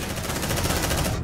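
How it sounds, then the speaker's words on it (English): Rapid automatic gunfire in the sci-fi shooter Aliens: Dark Descent, a loud continuous burst of evenly spaced shots that cuts off abruptly. "they started firing on me immediately"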